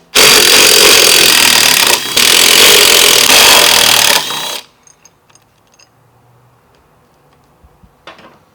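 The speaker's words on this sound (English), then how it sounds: "Take a 1/4-inch hex driver." Power driver with a 1/4-inch hex bit backing out handlebar clamp bolts on a 2024 Harley-Davidson Road Glide, a loud steady whir for about four seconds with one brief break, then quiet clicks and small clinks.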